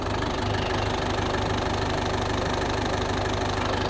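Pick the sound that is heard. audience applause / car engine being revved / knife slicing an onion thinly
car engine being revved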